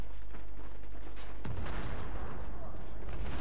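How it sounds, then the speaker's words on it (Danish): Gunfire in the Battlefield 4 video game, with one sharp, loud shot cracking out over steady background game noise, followed by a dense, rumbling wash of sound. "Så kommer der en skud af en pistol eller sniper eller et eller andet."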